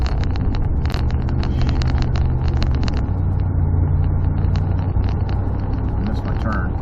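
Dodge Dakota pickup truck rolling along a road with a steady engine drone, one audible shift as the pitch drops about halfway through, wind noise on the microphone and someone talking over it.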